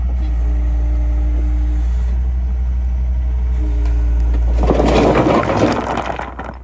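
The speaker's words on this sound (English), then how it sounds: "go ahead and dump it right there, Ethan." A truck idles with a deep, steady engine rumble, then near the end its load dumps at a garage construction site with a loud gritty rushing slide that fades out.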